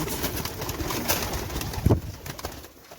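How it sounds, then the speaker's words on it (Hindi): Pigeons being fed grain coo softly and close by, a low throaty burble rising once amid scattered faint chirps and rustling. "ये देखिए ये हमारे कबूतर हैं, इनको हम लोग दाना डालते हैं इस टाइम"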